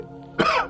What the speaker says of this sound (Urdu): اور اس کا باپ کھانسنے لگا۔